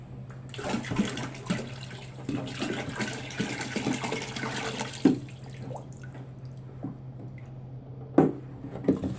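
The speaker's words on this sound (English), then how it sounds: "I'm just shaking this jug" Liquid sloshes inside a jug being shaken, giving a continuous watery churning with a few sharper splashes and knocks. It is close and moderately loud, with no talk.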